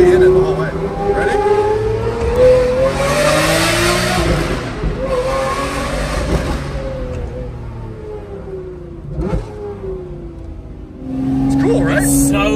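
A V12 supercar engine revs hard as it accelerates, its pitch climbing through gears and dipping at shifts before rising again, loud and close from inside the car, with voices over it.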